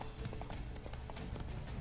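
Horse hooves clip-clop in a quick, even rhythm in The Witcher 3, faint and steady over a low rumbling background.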